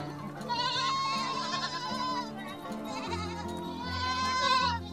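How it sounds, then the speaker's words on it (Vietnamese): Goats bleat on a goat farm, two long wavering calls, loud and close, one after the other with a short gap, over low background noise and no talking. "đây là chú Sơn, chủ của cái trang trại chăn nuôi dê"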